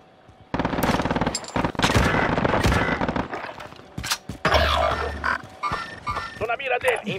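Rapid bursts of machine-gun and rifle fire from the Call of Duty video game, loud and close, with dense crackling volleys and sharp single shots, spoken callouts mixed in between the firing.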